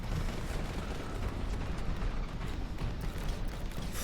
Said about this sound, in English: the melter gun is pretty effective against him.